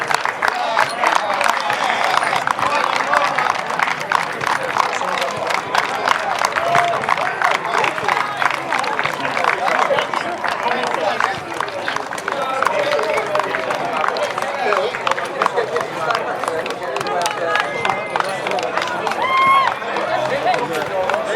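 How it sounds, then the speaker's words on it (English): Long, steady applause from a crowd at a football cup final, honoring the runners-up, with clapping and crowd babble blended throughout at an even level, talk mixed in. "Please give our runners-up a round of applause"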